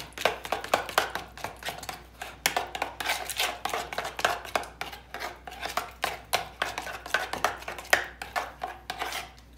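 Garlic yogurt is mixed with a pinch of salt in a bowl, a quick rhythmic run of spoon scrapes and clicks repeating closely throughout, with no voices.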